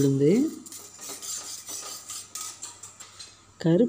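Black urad dal being roasted in a pan, with metal utensil scrapes and light rattling of the lentils, framed by short bursts of voice at the start and end.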